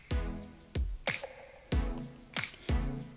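Soaked bitter gourd pieces dropped into a hot pan with crackling mustard seeds, giving several wet sizzling splashes and squishy spatters in quick bursts, close and fairly quiet.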